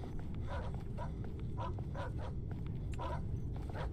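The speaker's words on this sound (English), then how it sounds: "Dogs are barking." Several dogs bark repeatedly in a horror video game, muffled and somewhat distant, over a constant low rumbling ambience with no speech.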